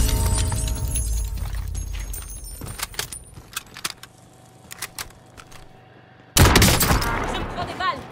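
Automatic SMG fire from a CR-56 AMAX in Call of Duty Warzone on Rebirth Island, with scattered sharp shots and bursts under ambient game noise, then a loud dense burst of fire near the end.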